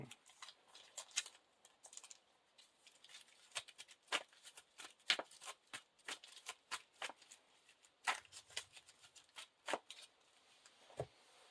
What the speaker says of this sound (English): All these are shuffled back in.